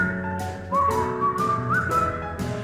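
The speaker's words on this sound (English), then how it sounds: "Just purse your lips and whistle" A single person whistles a bright, wavering melody of sliding notes at close range, carrying a song tune clearly and alone over a faint musical backing.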